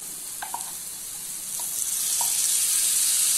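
Boiled mutton boti pieces hit hot spice masala in a pan and sizzle steadily, the frying hiss swelling louder with a few stirring clinks, no speech.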